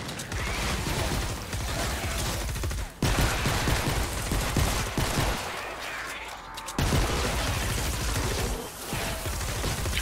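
Dense, continuous automatic gunfire from a modified gun in Fortnite: Save the World on PC, a loud rapid stream of shots with brief breaks near the three-second and seven-second marks.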